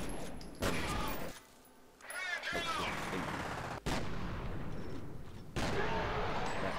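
Loud shotgun blasts from the F.E.A.R. video game ring out near and heavy, several booming shots separated by short gaps, with one brief quieter lull and game combat noise filling the spaces between them.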